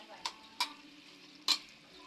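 Ginisang sayote, chayote being stir-fried in a pan: three short scraping clacks as the pieces are stirred and turned, over a faint, soft sizzle.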